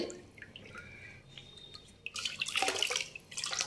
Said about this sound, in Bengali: মোটামুটি হয়ে গেল পরিষ্কারভাবেই শ্যাম্পুটা। এইবারে জল পাল্টানো হবে